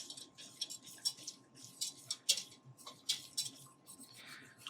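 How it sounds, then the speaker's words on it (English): A whisk works grits through liquid in a pot, giving quick, light scraping and ticking strokes in an uneven rhythm, close but fairly soft, with no voices. "And then I'm going to whisk."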